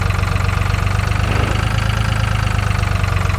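Tractor engine in the video game Farming Simulator 2013 during a wheat harvest, a loud, steady rhythmic diesel chug that continues unbroken with no voices.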